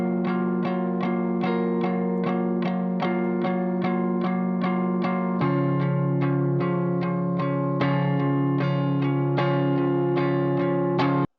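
Electric guitar chords played for an indie beat, processed with effects: evenly spaced strummed chords repeat in a steady rhythm, shifting to a new chord about halfway through and ringing clearly with a slight shimmer before stopping abruptly.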